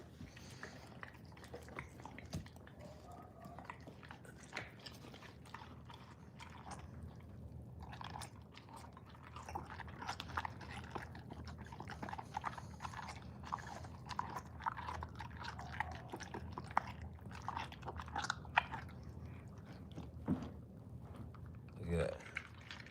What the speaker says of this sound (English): What that dog is eating on right there.